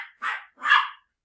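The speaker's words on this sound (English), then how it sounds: "Excuse my dog in the background." A dog barks twice in the background indoors, two moderately loud, slightly distant woofs about half a second apart with no other sound around them.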